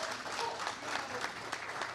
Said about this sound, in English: How about a round of applause for our color guard?